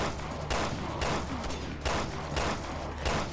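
Rapid bursts of gunfire from a survival-horror shooter, Resident Evil: Revelations 2, crackling in dense repeated volleys roughly every half second, loud and close with no talking over them.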